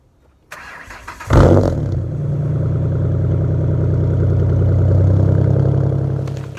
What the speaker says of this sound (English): So I'm going to give a nice little cold start for y'all.